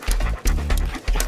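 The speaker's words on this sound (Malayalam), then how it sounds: "അയ്യോ പട്ടി," A dog pants in quick, close, breathy bursts, about three rhythmic huffs with brief pauses, alone and fairly loud.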